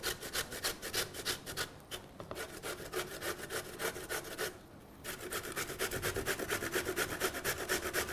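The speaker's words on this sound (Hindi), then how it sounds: "ग्रेटर से इसे हम कद्दूकस करेंगे। मोटी वाली तरफ से मैं कद्दूकस कर रहा हूं।" A vegetable is grated on the coarse side of a handheld grater in a kitchen, making a steady, close rhythmic rasping of quick even strokes with one brief pause, no voices.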